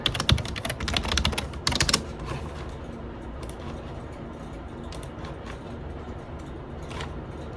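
Computer keyboard typed on to log on at a hospital workstation, a flurry of quick clicking keystrokes at the start, then sparse taps over a low steady room hum, close and with no talk.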